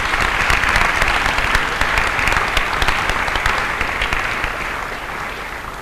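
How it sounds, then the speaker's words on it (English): A large graduation audience claps in sustained, dense applause, loud at first and slowly fading toward the end. "I would like to request our graduates once again to appreciate all this with an loud applause"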